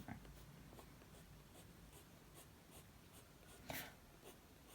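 A colored pencil makes small, light, feathery strokes on paper, a soft regular scratching repeating roughly every few tenths of a second, faint and close, with one slightly louder rub near the end and no talking.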